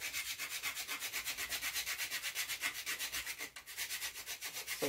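Spice is grated for Jamaican cornmeal porridge in a fast, even rhythm of close rasping strokes, about four or five per second, with a brief pause near the end.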